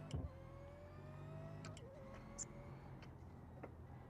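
Car engine in the driving game BeamNG, a quiet steady hum with faint tonal whine that slides upward as the car accelerates, plus a few light clicks and ticks, no talking over it.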